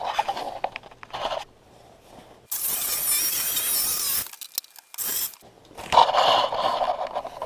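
A jigsaw cuts plywood yard art with a color print in bursts: a loud, close harsh buzzing rasp that starts and stops, with quieter handling and scraping noises between the cuts.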